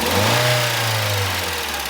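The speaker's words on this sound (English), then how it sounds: "Yeah, give it a little rev." Ailing car engine revved briefly over a rough, uneven idle, its loud low drone swelling and then sagging back throughout, close by with no talk.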